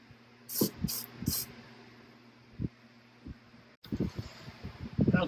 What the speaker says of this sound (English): Just spray all those contacts off, make sure it gets nice and clean.